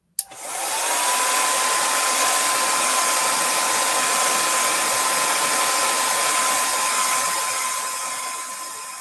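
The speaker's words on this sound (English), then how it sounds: "I'm going to just add a little bit of heat to the stamped image to dry that heat." A heat tool blows hot air to dry ink on a stamped image, starting with a click and then a loud, steady, close whooshing roar with a faint high whine that continues for about nine seconds.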